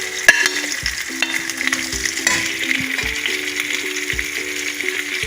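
Cubed onions and green chillies fry in a pan for chilli chicken, giving a steady close sizzle broken by repeated spatula knocks and scrapes at a loose rhythm, with no talking.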